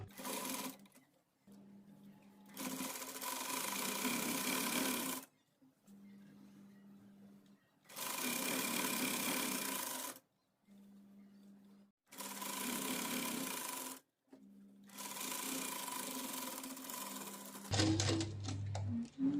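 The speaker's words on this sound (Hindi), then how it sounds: "अब इसे हम आधे इंच के फासले पे सिलाई लगा लेंगे" A sewing machine stitching a patiala salwar runs in long steady bursts of rapid whirring, stopping and restarting several times with short pauses between runs, close and alone.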